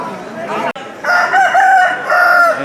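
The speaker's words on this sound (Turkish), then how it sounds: "burada da tavuklar var, horozlar var" A rooster crows loudly and close by in one long, drawn-out call, following a brief burst of clucking, at a pigeon and chicken market.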